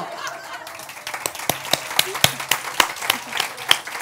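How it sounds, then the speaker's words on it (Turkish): A single person clapping for themselves on a television talk show, a steady series of sharp hand claps growing firmer after the first second, with light laughter and voices in the background. "Sen az önce kendini mi alkışladın?"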